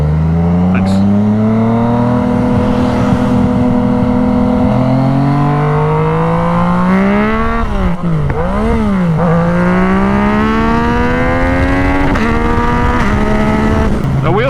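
Yamaha FZ-09 motorcycle with an 847 cc engine revving and accelerating through the gears, loud, close, with rising engine pitch dropping at each gear shift, with rushing wind noise throughout.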